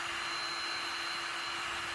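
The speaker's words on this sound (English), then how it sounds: "going in with my heat gun" Basic 25-pound heat gun blowing hot air over a leather car seat, a steady, even hiss-like roar with a faint constant whine, close and continuous with no talk.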